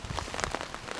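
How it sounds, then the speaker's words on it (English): Steady rain patters onto a lake at a fishing spot, a dense close hiss of drops with scattered brighter splashes and no voices. "Excuse the rain, but yeah, can't change the weather."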